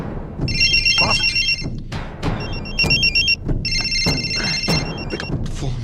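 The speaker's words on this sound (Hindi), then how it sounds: "Pick up phone." A telephone rings in repeated electronic bursts over an urgent scene, loud and close with background noise and movement between the rings.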